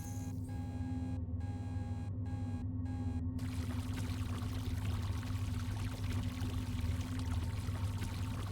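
A steady, continuous rush of flushing water in a video game, loud and close, with a low hum underneath and a few faint tonal blips early on, lasting throughout.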